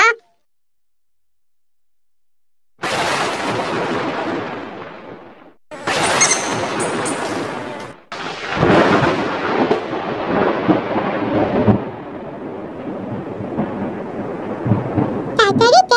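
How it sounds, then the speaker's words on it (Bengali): Thunder cracks and rumbles from lightning just before the rain in a Bengali cartoon: a sudden loud crash after silence, then further heavy booming rolls that fade into a steady rumble. "তাড়াতাড়ি দেখ, আকাশে কি পরিমাণ বিদ্যুৎ চমকাচ্ছে, মনে হচ্ছে এখনই বৃষ্টি নামবে।"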